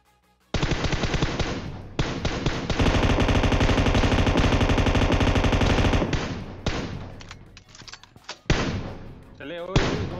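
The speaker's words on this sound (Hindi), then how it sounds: "यहाँ पे मैं फुल मजे में अपनी फालतू में M4 की गोलियां बर्बाद कर रहा होता हूँ" Rapid automatic M4 rifle fire in the mobile battle-royale game PUBG Mobile, long loud sustained bursts with short pauses and a few separate shots near the end, under faint game sound.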